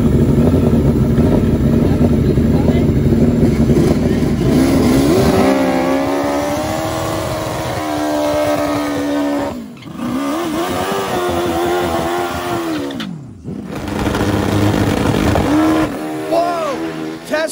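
800-horsepower turbocharged Hayabusa drag bikes racing, heard as a loud sustained engine roar that rises and falls in pitch with revving passes, with a commentator talking over it throughout.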